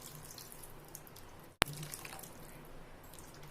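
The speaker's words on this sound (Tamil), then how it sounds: "நான் இன்னொரு டம்ளர் தண்ணியை ஊற்றிக்கிறேன்" Water poured from a tumbler into a pot of brinjal kurma kuzhambu curry, a single short splash-like burst in the middle of a quiet kitchen background with no speech.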